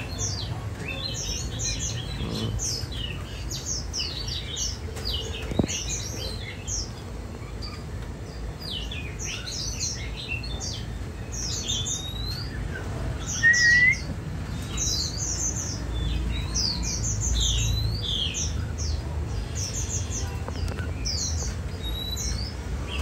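Oriental magpie-robin song, bursts of varied whistles and chirps repeating through the clip over a steady low background hum, fairly close, with no talking.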